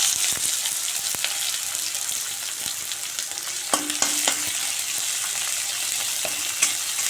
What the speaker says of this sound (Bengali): তেলের মধ্যে আমি পেঁয়াজ কুচি দিয়ে দেবো।